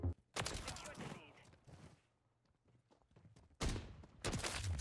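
Gunfire with cosmic-style tracer rounds in Call of Duty: Modern Warfare III, loud bursts of rapid shots at the start and end with a quieter stretch between, while a voice talks faintly.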